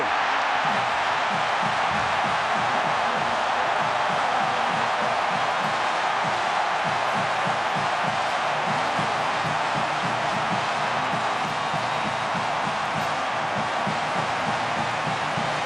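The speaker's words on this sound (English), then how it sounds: "Something for the home crowd to cheer about." Home crowd in a packed stadium roaring steadily after a Michigan touchdown in a college football game against Wisconsin, a dense, sustained wash of cheering with no breaks.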